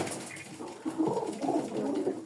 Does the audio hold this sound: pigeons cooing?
yes